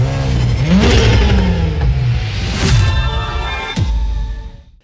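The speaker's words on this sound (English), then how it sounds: "I'm pretty sure I heard like some turbo flutter going on" An Acura TLX Type S engine revs up and down in several swells, with a whooshing turbo flutter between pulls, loud and close and without talking, before the sound cuts off at the end.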